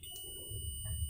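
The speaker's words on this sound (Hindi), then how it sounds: "अब देखिए ये ख़राब हो गया है, ये लगातार बीप दे रहा है" A faulty multimeter in buzzer mode, damaged by 220 volts and with a burnt resistor, gives a continuous steady high-pitched beep, fairly faint over a low background hum.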